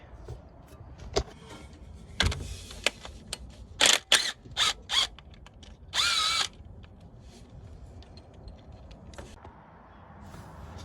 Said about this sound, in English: I'm about to pull those 4 bolts on the pulley.